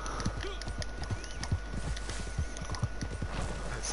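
Horse hooves clip-clop in a video game, a steady run of hoofbeats close by over a constant game background hum, with a brief whinny-like sound.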